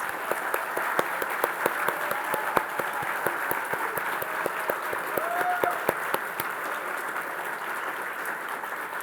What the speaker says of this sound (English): So please a round of applause to all of our chapter chairs.